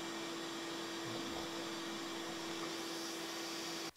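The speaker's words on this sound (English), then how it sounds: "You only need two things: a hot glue gun and a vacuum cleaner set to blow." A vacuum cleaner set to blow runs as a constant, steady whine and rush close by, with no talk, cutting off abruptly at the very end.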